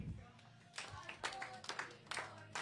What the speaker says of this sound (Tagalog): tayo po ay magtaas ng kamay at pumalakpak ng 3 beses